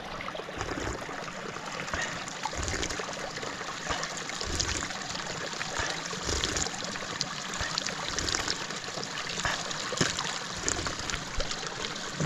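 A small mountain stream flows through jungle, a soft continuous trickle and babble close by, steady and fairly quiet throughout.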